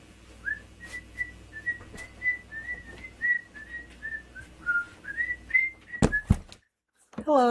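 A person whistles a wavering, melodic tune, a string of short notes repeated steadily and close up, cut off by a couple of sharp knocks followed by a brief silence.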